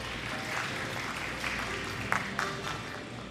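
An audience claps steadily at a sustainable seafood forum in Korea, a dense, even patter of applause in a hall with a few sharper claps near the end and no talk.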